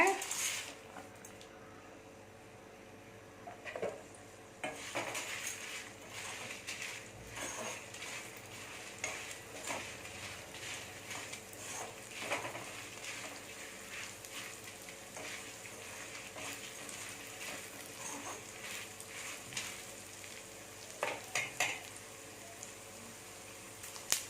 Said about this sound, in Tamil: ஒரு ஸ்பூன் சோம்பு ஒரு ஸ்பூன் சீரகம் ஒரு ஸ்பூன் மிளகு இது எல்லாத்தையுமே வறுத்துடணும்